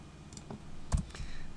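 A few sharp computer mouse clicks while configuring an Excel spreadsheet, brief and fairly close, with one louder click standing out near the middle.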